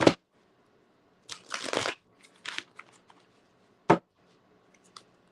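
A deck of cards is shuffled in a few brisk bursts of riffling and snapping, close and crisp, separated by quiet pauses with a single sharp tap near the end.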